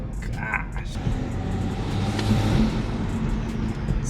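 A Toyota Supra with a B58 engine and an aftermarket turbo intake revs, its engine roaring steadily with a brief turbo whistle near the start while someone talks excitedly over it.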